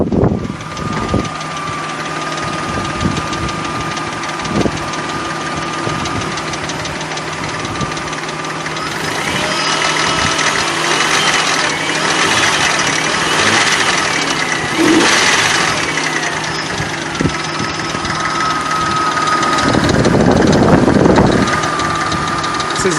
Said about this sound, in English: listen to how this gasoline engine will now sound like a diesel engine with all the